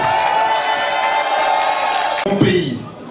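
An assembly cheers and applauds in a dense, sustained roar of clapping and shouting, loud and close, then the crowd noise drops off abruptly and tapers away over the last second.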